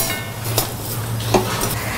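Coriander seeds and chillies dry-roasting in a pan for sambar give a soft, continuous rustling and scraping, with a couple of light metallic clinks as the spices are stirred.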